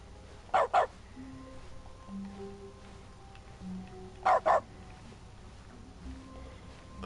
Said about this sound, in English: the interrupt button's literally the dog noise now